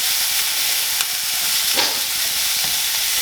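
Garlic frying in an onion mixture for stuffed poblanos, a steady close sizzle and hiss with faint stirring scrapes, no talking.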